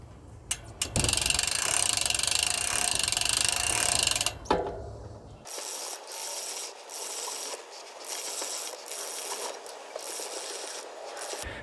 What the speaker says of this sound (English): it rolls along the chain as you turn the cranks